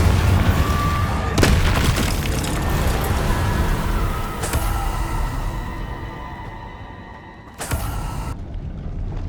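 Confringo blasting spell from the Hogwarts Legacy video game going off as three sharp, booming bursts spaced a few seconds apart, each decaying into a rumbling wash over a steady ambient bed.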